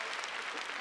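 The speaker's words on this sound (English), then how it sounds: "Thanks for the applause." Under a second of soft, even crowd applause, heard alone without talk.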